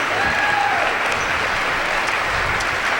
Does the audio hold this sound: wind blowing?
no